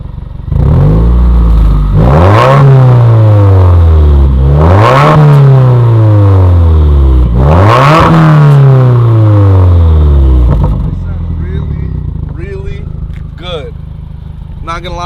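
A Subaru WRX with an FA20 engine and stock exhaust revs loudly three times in quick succession, each rising sweep dropping back, then settles to a steady idle with faint clicks near the end.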